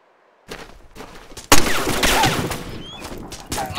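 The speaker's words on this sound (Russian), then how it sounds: "Откуда пулемет шьет?" A machine gun fires in the military video game ArmA 2 with the ACE mod, sharp distant cracks and then a loud nearby burst of rapid shots that keeps rattling, with further reports echoing toward the end.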